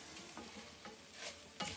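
Rice browns in a pan while a spoon stirs it, giving faint soft scrapes and light sizzling in a few uneven strokes, with no voices.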